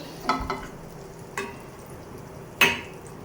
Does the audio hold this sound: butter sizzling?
yes